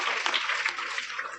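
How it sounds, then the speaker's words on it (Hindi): A school seminar audience gives a short burst of clapping, quiet and a little distant, with many hands blending into a steady patter and no voices over it. "जोरदार तालियां एक बार"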